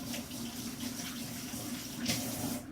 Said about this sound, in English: Rinse my hands off there.